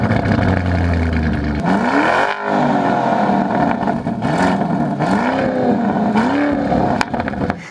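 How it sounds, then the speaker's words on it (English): A 2021 Lamborghini Urus SUV with an Akrapovic exhaust in sport mode roars loudly and close, its engine note rising and falling through repeated revs and gear shifts with a sharp pop near the end, no talking. "the noise of this car, and it's got an Akrapovic exhaust, is blooming loud in sport mode"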